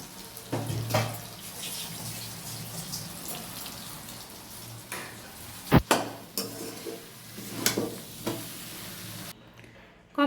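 Chowmein made from wheat-flour noodles stir-fried in a pan, with scraping and tossing clatters, a steady sizzle and a few sharp utensil knocks, fairly close and with no talking.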